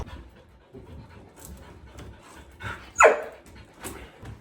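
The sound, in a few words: dog panting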